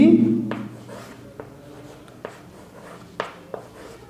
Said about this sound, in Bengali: বেশ, আমি লিখছি আরেকবার দেখো